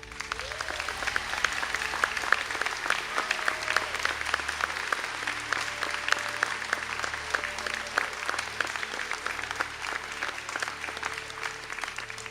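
Graduates' families and guests applaud at a college conferring ceremony, a full hall of steady clapping with distinct individual claps, holding at an even level for the whole stretch.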